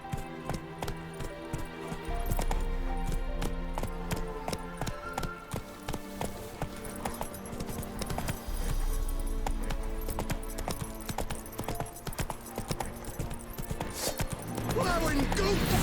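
Hoofbeats pound in a fast, continuous gallop as a horse in The Witcher 3 runs, layered over game music and ambient sound for the whole stretch.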